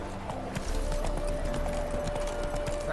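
Roach, the horse in The Witcher 3, gallops steadily with rhythmic hoofbeats over continuous game ambience and a sustained musical tone, close and fairly loud throughout.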